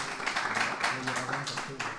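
An audience at a supply-chain panel at Mêlée Numérique 2022 applauds the speakers. The clapping is moderate and steady, with voices talking over it throughout.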